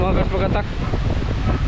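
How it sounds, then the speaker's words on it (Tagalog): A strong gust of wind sweeps across an outdoor boat-building site, a loud sustained roar of rushing air over the microphone while a person speaks briefly. "Biglang lumakas yung hangin"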